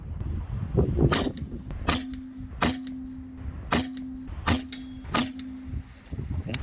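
An Air Venturi Alpha PCP air rifle fires six sharp, evenly spaced shots over a chronograph, each crack loud and close with a brief ringing tone trailing it, while faint rustling sounds between shots.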